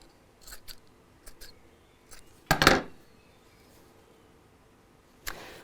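Scissors trim fabric bias binding in a quiet room: a few faint snips, then one louder, sharper cut and a final snip, with pauses between.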